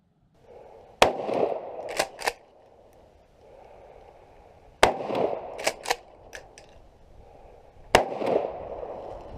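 Mossberg 500 Compact Cruiser AOW shotgun firing buckshot at 50 yards outdoors, three sharp loud blasts spaced seconds apart, each followed by quick echoing cracks and a ringing decay, with no talk.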